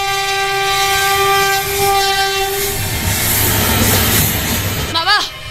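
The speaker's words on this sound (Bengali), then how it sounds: "ট্রেন আসছে, সরে যাও, সরে যাও।" A train comes along a railway line with a long sustained horn blast, then a loud rumbling roll of wagons that swells close, with a shouting voice over it in a stage-play setting.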